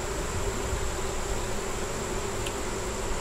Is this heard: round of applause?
no